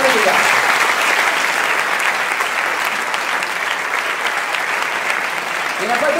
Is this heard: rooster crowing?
no